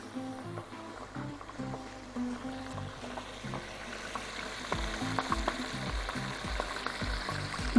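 Onion and meat frying together in a pot for a stovetop beef kebab stew, giving a steady close sizzle with stirring scrapes and clinks, alone without talk.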